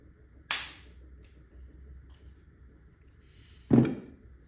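Two sharp, loud shots from an LL4D Sicariis GD50 launching HD-24 pointy projectiles, the first near half a second in and the second about three seconds later, each a crisp crack with a short decay over faint background hum.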